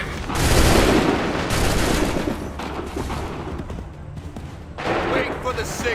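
Loud, dense gunfire comes from the Assassin's Creed III video game, a volley of musket shots blending into a sustained roar that fades slightly before a second burst near the end.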